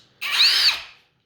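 A Status CBL12Li cordless screwdriver spins up in one short, close, high whirring burst that winds down after about a second.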